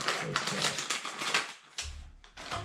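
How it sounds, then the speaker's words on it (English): Quick crisp snipping and crinkling of a plastic Filipino snack package being cut with scissors, several close taps and rustles in a short burst. "Let's just use the scissors."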